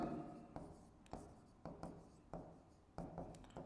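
Chalk or marker strokes on a board during a physics lecture on the screw gauge, several short scratchy bursts in an uneven rhythm, close and fairly faint, with no talk over them.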